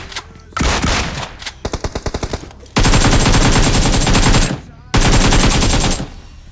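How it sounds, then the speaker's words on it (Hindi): Gunfire in the mobile battle royale game BGMI: a short burst of rapid shots, then two long, loud sustained automatic bursts close by with a brief gap between them. "तभी मुझे यहाँ पर गोली चलने की आवाज़ आती है।"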